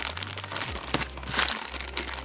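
A plastic bag from a parcel crinkles and rustles in short bursts as it is handled up close, over a low steady hum.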